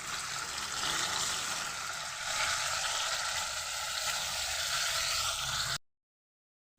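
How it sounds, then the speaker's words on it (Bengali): Pangas fish pieces fry in hot oil in a wok, giving a steady, close sizzle and hiss for several seconds before it cuts to silence. "মাছগুলো দিয়ে আমি ভেজে নেব"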